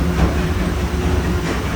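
Disneyland Railroad train running on its tracks, a loud close rumble of wheels and carriage noise filling the short moment with no voices.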